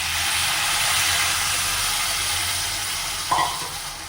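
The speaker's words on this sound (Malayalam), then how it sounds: "ഇനി നമ്മൾക്കത് വേവാൻ ആവശ്യമായ വെള്ളം ഒഴിച്ച് കൊടുക്കാം." Water poured onto hot roasted semolina for upma sizzles and steams in a steady, loud hiss that eases slightly toward the end, with a brief clink near the close.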